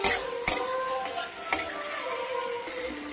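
Chopped tomato cooks in a pan with garlic and onion, a soft sizzle under the sharp clinks of a utensil scraping and stirring against the pan, with a few distinct metallic knocks.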